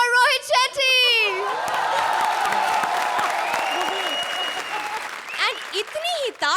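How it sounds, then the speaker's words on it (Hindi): A comedy show studio audience breaks into loud applause with cheering and whoops, the clapping swelling in the middle as a host speaks briefly at the start and end. "A big applause for Rohit Shetty"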